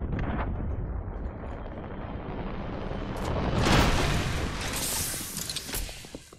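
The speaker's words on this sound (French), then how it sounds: "Il y a de la bombe à dispersion dans l'air" Cluster bomb explosions in the Apex Legends video game: a dense, continuous barrage of crackling blasts and rumbling booms, swelling louder toward the middle and then staying heavy and rough.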